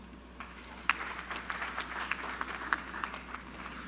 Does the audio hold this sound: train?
no